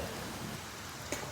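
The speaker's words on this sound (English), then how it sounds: "See the rain coming out high." Steady rain falls outdoors during a workout, a continuous soft hiss with one brief louder splash or thud near the end.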